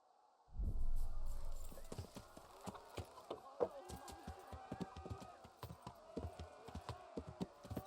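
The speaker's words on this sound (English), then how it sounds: "Gallop for the fastest, but also drains the horse stamina faster." Rapid rhythmic hoofbeats of a galloping horse in Kingdom Come: Deliverance, steady and fairly close, following a brief low rumble at the start.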